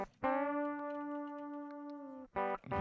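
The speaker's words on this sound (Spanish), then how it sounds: "Esta es la señal de línea normalita." Clean electric guitar line signal: a single sustained note rings bright and steady for about two seconds, then a brief second note starts, close and alone.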